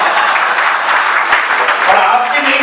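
An audience at a live comedy show claps in a dense, continuous burst of applause that holds steady and close for a few seconds.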